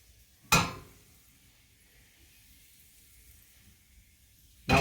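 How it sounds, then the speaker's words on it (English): A sudden loud sizzle as butter hits a hot pan fades quickly to a faint hiss, then another sharp burst of sizzling comes at the end. "Listen for that sizzle."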